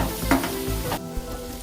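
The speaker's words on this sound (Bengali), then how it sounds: "রসুন কুচিগুলো আর কাঁচা লঙ্কা কুচিগুলো দিয়ে একটু ভালো করে নাড়াচাড়া করে নিচ্ছি।" Chopped garlic and green chili frying in oil while being stirred: a loud, close sizzle broken by scraping strokes of a spatula against the pan.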